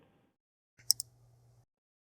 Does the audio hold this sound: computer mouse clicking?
yes